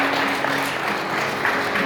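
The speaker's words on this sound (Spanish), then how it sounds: "le damos un fuerte aplauso al Señor" A church congregation claps together in a steady, dense round of applause that fills the room for the whole short stretch.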